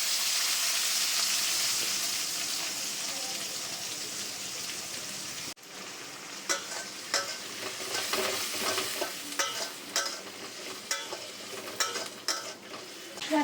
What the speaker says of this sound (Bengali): এবার দেবো হচ্ছে যে পেঁয়াজগুলো কেটে রেখেছি।